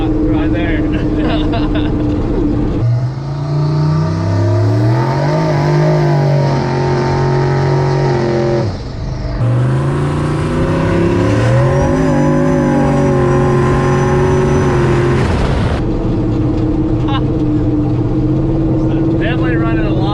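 A turbocharged LS-engined Chevrolet C10 pickup revs hard in a snowstorm as its wheels spin, a loud, sustained engine roar rising and falling in long surges, close by with some voices mixed in.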